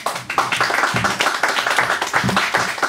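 Audience applause at a live performance, a steady wash of clapping that stays loud throughout, with faint voices mixed in.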